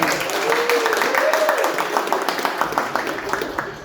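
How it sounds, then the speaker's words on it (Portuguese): An audience at an RPG, psychology and games meetup in Natal claps for a panel guest: a brief voice first, then a spread of scattered hand claps rising and filling the room. "Palmas para Amélia!"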